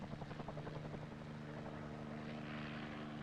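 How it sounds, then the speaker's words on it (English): A helicopter flying in over mountains toward remote jungle camps, its rotor and engine drone steady and fairly distant, with a rhythmic chop early on that smooths into a continuous hum. "the helicopter can fly in from the coast, across the forbidding mountains to the little camps beyond"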